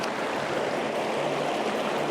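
Riffly trout stream water rushes and burbles steadily over shallow rocks, a continuous close wash of flowing water with no voices.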